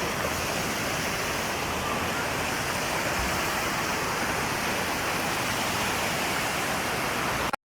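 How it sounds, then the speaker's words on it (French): A waterfall in the rain in Plitvice, a loud, dense, steady rush of falling water that fills the whole clip and cuts off abruptly at the end, with faint voices underneath. "pour aller voir la dernière cascade de Pliv"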